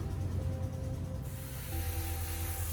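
A steady close hiss of a spray bottle misting mung bean plants on hydroponic trays runs throughout with a low background hum, with no talking.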